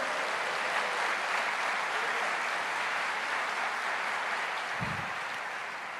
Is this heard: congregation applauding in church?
yes